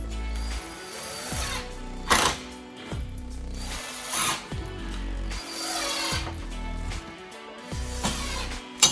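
A power drill drives a couple of screws into wood during nighttime house framing, with repeated whirring bursts and ratcheting clutch clicks in several close, loud runs, no talk.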